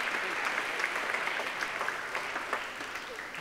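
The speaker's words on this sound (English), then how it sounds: "Could you please give all of our Making Waves Award winners one more big round of applause?" Audience applause for Making Waves Award winners at a clean water event, a steady roomful of clapping close and even throughout with no speech.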